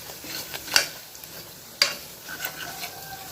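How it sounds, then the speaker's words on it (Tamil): Chili powder frying in oil for a beef gravy: a quiet, steady sizzle broken by two sharp spoon clanks against the pan, close and faint between them. "இது எண்ணெயிலே இந்த மிளகாய்த்தூள் நல்லா வதங்கணும்"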